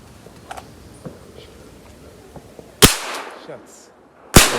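Shotgun blasts at a Sunday morning bird shoot in open country, two loud sharp reports a couple of seconds apart, with faint distant pops and quiet background before them.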